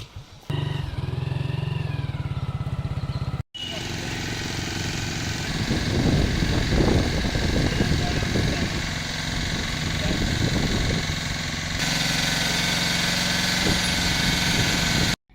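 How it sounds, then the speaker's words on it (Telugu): Motor pumps drain rainwater from the flooded Railpet central warehouse: a steady mechanical drone runs throughout, with a rougher, rushing stretch in the middle. "మోటార్ల సహాయంతో వర్షపు నీటిని బయటకు తోడించారు"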